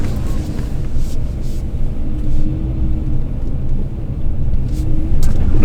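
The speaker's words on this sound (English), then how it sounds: "All right, here we go. Let's do a U-turn." A large Challenger GT car engine hums low and steady as the vehicle makes a U-turn, a continuous close rumble with slight swells and no talk.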